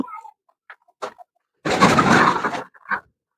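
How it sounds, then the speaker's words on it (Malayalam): Chickens cluck in short bursts and then let out a loud, sustained squawk as they scatter and run off nearby, with quiet gaps between calls. "അയ്യോ കോഴികളൊക്കെ ഓടി പോകുന്നു"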